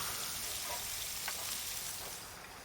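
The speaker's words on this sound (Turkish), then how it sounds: "Ve soğanları kavurdu." Onions fry in corn oil in a pan, giving a continuous soft sizzle with faint crackles and small pops, alone and fairly quiet.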